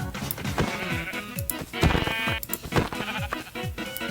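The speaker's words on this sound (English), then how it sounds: "So we need to find these sheep now, and they're not cooperating." Sheep in the Minecraft video game bleat repeatedly, with short, close, overlapping baas in quick succession over game background sounds, and no talk.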